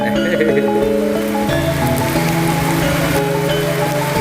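Steady, dense rain hisses loudly throughout over Telaga Sarean lake, with a droning tonal hum running beneath it.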